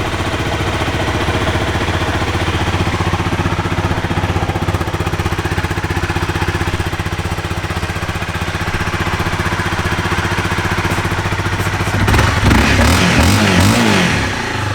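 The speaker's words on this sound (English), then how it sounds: "Fires up right away." A 2013 Honda CBR 250R motorcycle engine runs at a loud, close, steady idle with an even buzzing putter, then near the end the sound shifts into a brief rougher, louder burst.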